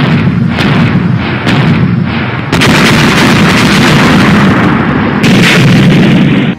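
Cannons boom repeatedly in a staged battle over a defended fort, heavy loud blasts landing every second or so over a dense continuous rumble of gunfire and explosions.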